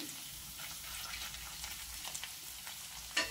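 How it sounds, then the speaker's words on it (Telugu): Capsicum, carrot and curry leaves fry in a pan with a faint, steady sizzle and light stirring, ending on a single sharper clatter, with no one speaking. "ఇలా ఒకదాని తర్వాత ఒకటి వేసి అన్నీ ఫ్రై చేసుకోవాలి"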